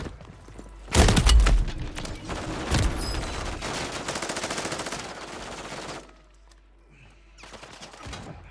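Gunfire in Call of Duty, a loud burst of shots near the start followed by sustained rapid automatic firing that cuts off, then a few fainter bursts.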